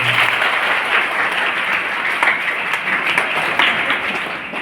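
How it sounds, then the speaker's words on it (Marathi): A school audience applauds the headmaster at a Karmaveer Bhaurao Patil anniversary event, dense loud clapping from many hands that holds steady throughout and tapers slightly at the end. "त्यांच्या आपण जोरदार टाळ्या वाजूया"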